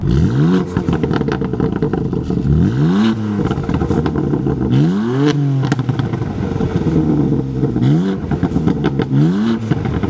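Flood-restored BMW M3 driving past, heard from outside: loud engine and exhaust note rising and falling through repeated revving surges and gear changes, with a steady rumble and light crackle throughout.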